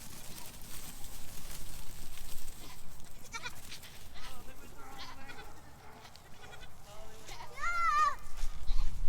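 Several goats bleat close by, overlapping calls over steady outdoor noise, with a louder, higher bleat near the end.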